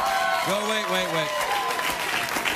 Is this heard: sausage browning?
no